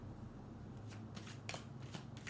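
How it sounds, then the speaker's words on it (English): Tarot cards shuffled by hand in several quick riffling bursts, close and fairly quiet over a low background hum, with no talking. "Let's pull more cards."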